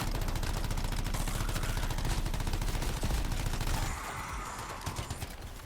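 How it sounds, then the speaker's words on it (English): A light machine gun fires in the video game Anthem, loud rapid sustained bursts of gunfire for several seconds, then easing into quieter scattered shots. "So this light machine gun's basically just better than that assault rifle."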